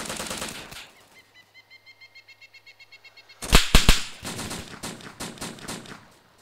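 Gunfire in the DayZ survival game at an airfield, with a Mosin rifle: a rapid string of faint, distant cracks, then a few loud, close shots in quick succession followed by fainter echoing reports.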